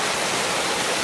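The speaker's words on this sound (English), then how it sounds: "The water's coming just straight out" Water from a fountain in Spain falls straight down in a steady, broadband splashing rush, close and continuous with no voices.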